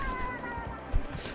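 A cat meows close by, a drawn-out tonal cry followed by a short sharper call, heard alone without talk.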